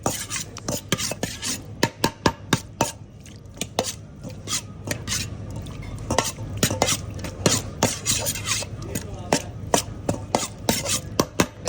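Busy Thai restaurant kitchen cooking: rapid chopping and clattering utensils against pans over a steady sizzle, with sharp irregular knocks throughout and no voices.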